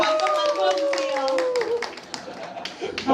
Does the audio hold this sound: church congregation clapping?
yes